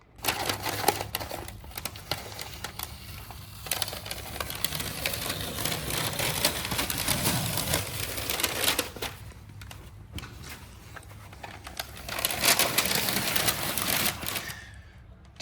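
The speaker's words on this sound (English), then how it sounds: "Take the tape and pull downward." Painter's tape peels downward off a freshly painted and caulked interior wall in long, close, crackling rips, loud and continuous with brief pauses between pulls.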